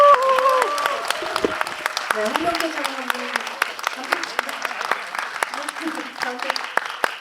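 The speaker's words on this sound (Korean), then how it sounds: "큰 박수 부탁드립니다" Audience applause at a film screening discussion event for the movie Harbin, as the director and cinematographer take their seats: a steady, close wash of clapping with a host's amplified voice speaking over it.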